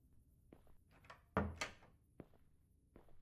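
A locked door in an indie video game that won't open gives a few dull thunks and a rattling knock close by, with quiet ambient sounds in between.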